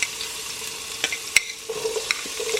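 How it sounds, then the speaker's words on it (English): One medium onion hits heated oil in a pan, a soft hiss with quick stirring scrapes and small clicks of a utensil, close and fairly quiet, no voices. "So now the oil is heated up and I'm going to add my 1 medium-sized onions."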